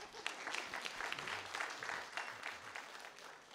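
Faint, steady applause rises from the audience at a glaucoma session of an ophthalmology conference, with many hands clapping continuously in a large room and a low murmur of voices beneath.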